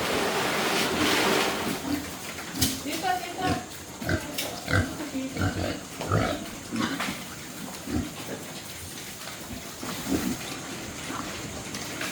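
Pigs grunt and snuffle repeatedly on a farm, rough irregular bursts heard close amid steady washing or splashing water.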